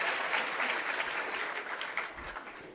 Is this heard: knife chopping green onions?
no